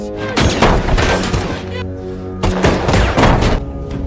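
A movie scene carries bursts of loud gunfire, two clusters of rapid shots and booms separated by a short pause, with a tonal score underneath.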